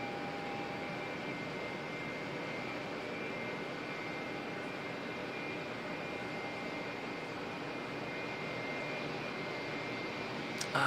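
A Qantas Boeing 787 in special livery arrives at Auckland Airport, heard as a steady, distant jet roar that holds evenly throughout with no voices.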